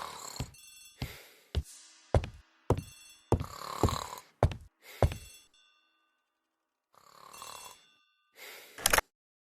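Old-fashioned telephone bell ringing in a hall, repeated sharp bursts in a steady ring-pause rhythm, fairly close and clear, with a gap before a final ring.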